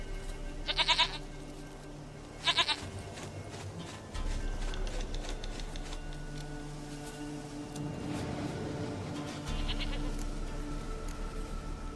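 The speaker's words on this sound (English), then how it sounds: "Goat of mine! Dearest, sweetest goat!" Goats bleat in The Witcher 3 video game: two short, close bleats near the start and a third a few seconds later, over a steady low hum and faint game ambience.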